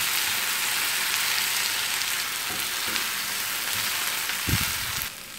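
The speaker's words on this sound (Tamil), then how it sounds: "எண்ணெயில் நல்லா வதக்கணும்" Curry leaves frying in oil, a loud, continuous crackling sizzle close by, with a few dull knocks of the stirring spoon toward the end before the hiss eases slightly.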